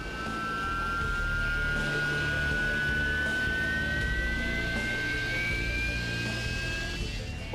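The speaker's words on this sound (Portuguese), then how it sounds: "Marinha inglesas têm uma única frota de Harriers" Harrier jets training for vertical takeoff and landing in Scotland put out a loud, constant jet roar with a high whine slowly rising in pitch, and no talking.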